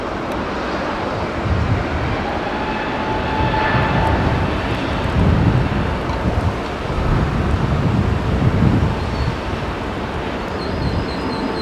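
A Lufthansa airliner's engines roar steadily past with a broad, loud rumble that swells and fades slightly, mixed with wind buffeting the microphone.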